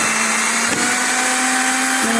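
A cordless screwdriver drives long screws during a corridor renovation where wall panels are being removed, its motor whining loud and steady at close range with a brief dip in the middle.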